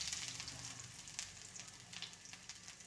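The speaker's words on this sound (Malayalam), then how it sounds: "ചൂടായ എണ്ണയിലേക്ക് കടുക് ഇട്ട് കൊടുക്കുക. കടുക് പൊട്ടി തീർന്നതിലേക്ക് ഇഞ്ചി ഇട്ട് കൊടുക്കുക." Ginger frying in hot oil after mustard seeds have popped gives a steady close sizzle with faint crackles and small pops throughout.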